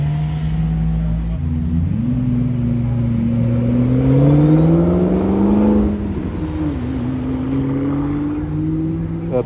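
A McLaren P1 supercar drives past on a busy street, its engine note rising in pitch as it accelerates by, swelling louder mid-pass and then easing off, with crowd noise and traffic around it.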